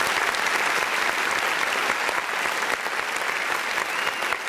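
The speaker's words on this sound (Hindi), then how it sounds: "इस गलती पर जोरदार तालियां प्लीज एवरीवन" A crowd at a Mahindra Eminente Diwali celebration bursts into loud, sustained applause, dense clapping filling the whole stretch without pause.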